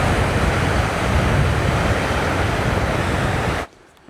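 Water rushing from the outflow of a hydroelectric facility along the Great Glen Way, a loud dense roar of churning water close by that cuts off abruptly near the end.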